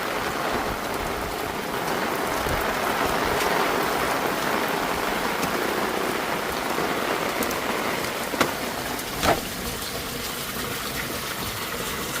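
Heavy flash-flood rain pours and water gushes through four-inch round downspouts and a vented cleanout gutter leaf filter: a loud, continuous hiss and rush of flowing water with a couple of brief knocks near the end.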